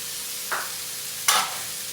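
Two quick hissing sizzles, the second louder and brighter, as beaten eggs are poured into a hot pan for bitter gourd sauté, over a low steady frying background.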